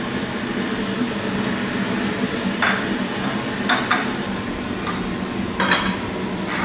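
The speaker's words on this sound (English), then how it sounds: "A little more basting here." Scallops are basted in a hot pan, giving a steady, loud, continuous sizzle, with a few light clinks of a spoon against the pan scattered through.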